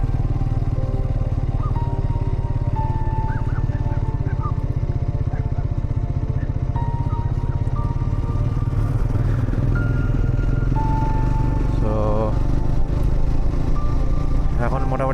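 Motorcycle ridden along a mountain road from plains into the hills, its engine droning steadily and close throughout with a low rumble, rattling clatter and shifting tones near the end.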